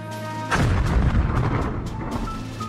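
A grenade explosion in the PC adventure game Runaway 3: A Twist of Fate, a sudden loud booming blast that follows a quiet moment and then rumbles and crackles as it decays.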